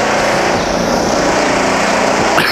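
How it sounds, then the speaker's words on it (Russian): Loud, continuous engine roar of heavy machinery at a building site in Turkey, droning steadily without a break. "Вот какая стройка."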